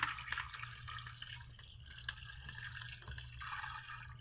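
Water is poured or trickles quietly into a pot for boiling chicken feet with garlic, ginger, bay leaf and peppercorns, a faint steady splashing with scattered drips and no talk.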